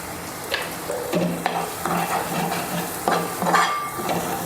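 A spoon scrapes and stirs through spice paste frying in oil in a pan for prawn pickle, making repeated close scraping strokes over a low, steady sizzle.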